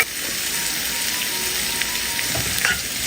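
Sliced onion and curry leaves fry in a pan with a steady, close, bright sizzle and crackle throughout, no voices.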